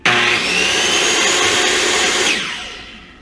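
A DeWalt DW369 circular saw with its blade removed spins up sharply, whines at a high steady pitch for about two seconds, then falls away as the brake slows it, loud and close with no talking.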